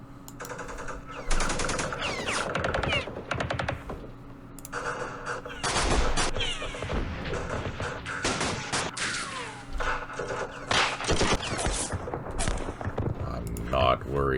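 Bursts of gunfire and rattling machine-gun volleys in the wargame Campaign Series Middle East, Battle of Port Said, come in repeated loud clusters with explosive cracks, separated by brief quieter gaps.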